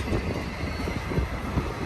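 Long freight trains pass at Verdemont, a steady broadband rumble of rolling cars with low clatter, heard from close by in a continuous unbroken wash.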